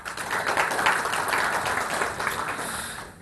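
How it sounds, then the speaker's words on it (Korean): An audience at a Microsoft Build keynote claps steadily for about three seconds, a broad, fairly loud wash of hands that tapers off at the end, with no voices over it. "박수 소리가 큰 걸 보니까 제가 막 기분이 막 좋네요"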